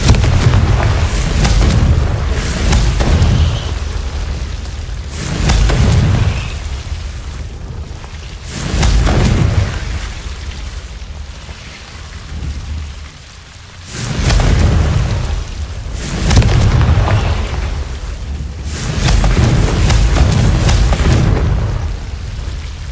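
Hogwarts Legacy's Confringo fire spell erupting in a series of heavy, rumbling booms that roll in roughly every four to five seconds, loud and close, with no speech.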